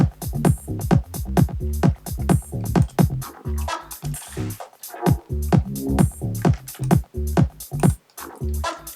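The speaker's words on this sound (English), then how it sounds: "This is the original kick and bass line with no lows." A tech house kick drum and bass line stripped of their low end play a steady four-on-the-floor pattern, thin and punchy, with regular evenly spaced hits throughout.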